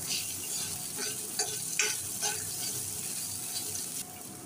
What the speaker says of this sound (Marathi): थोड्या आपण भाज्या घालूया, बारीक चिरलेला गाजर, 1-2 मिनिटं परतून घेऊया